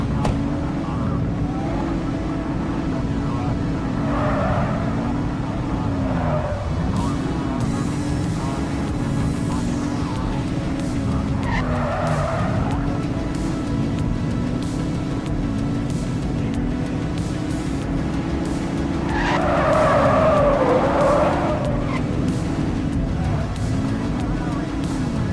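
A car being driven in the video game The Precinct, its engine a loud, steady drone that rises and dips with throttle changes, with brief voices breaking in over it at a few points.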